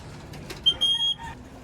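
Soft sounds of arriving racing pigeons at a club training release, with light wing flutters and a few short high chirps, fairly quiet against a calm outdoor background.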